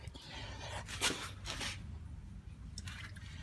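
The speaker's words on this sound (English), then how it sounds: "There's the oil draining." Engine oil from a 2012 Nissan Altima drains out during an oil change, giving a steady, fairly quiet liquid hiss and trickle with a few brief splashy bursts.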